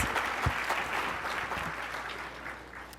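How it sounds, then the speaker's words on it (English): Banquet audience applause at an awards dinner after a musical performance: dense, even clapping from a large room that holds steady and slowly tapers, with no talking over it. "Let's give Krish Sethi another round of applause for those beautiful renditions."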